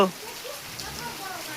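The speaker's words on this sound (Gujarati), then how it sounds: "કાંઈ જેવો તેવો વરસાદ નથી પાણી પાણી થઈ ગયું છે" Heavy rain pours down in Gariyadhar as a steady, dense hiss of drops striking surfaces, with a voice faintly present at times.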